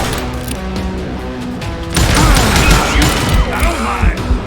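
Sustained gunfire from the Western video game Call of Juarez, a loud dense burst of shots and impacts that swells after a quieter stretch, with a voice briefly heard under the action.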